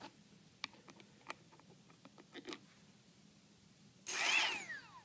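A hexacopter drone motor spins up near the end, a loud whirring whine with rising and falling tones after several faint clicks and taps.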